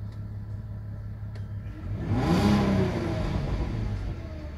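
A VW T5 van's 3.2 petrol engine idles, then revs up into a swelling roar midway and eases back to a steady hum, heard close with no talk.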